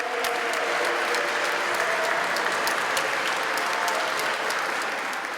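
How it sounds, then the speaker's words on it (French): Fellow clergy, friends and faithful give a cardinal warm, steady applause after mass at the 2023 consistory, a full, continuous wash of many clapping hands heard clearly and alone. "le cardinal a été accueilli par de chaleureux applaudissements de la part de ses confrères"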